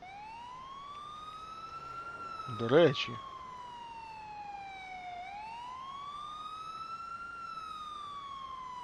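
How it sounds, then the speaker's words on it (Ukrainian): The ambulance siren of a RAF 22031 in Grand Theft Auto IV sounds a steady, slow wail that rises and falls in pitch. Someone speaks briefly over it. "Але перед цим сирену перевіримо."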